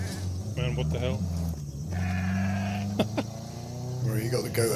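A goat bleats repeatedly over a steady vehicle rumble in the video game Ghost Recon Breakpoint, with people talking over it.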